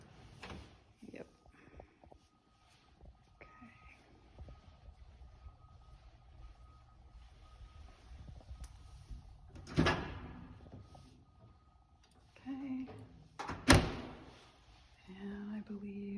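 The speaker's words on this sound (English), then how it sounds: "I believe these are soft close drawers" Kitchen drawers in a house, opening and closing, produce a couple of soft thuds and sliding knocks amid quiet room tone, with brief speech nearby.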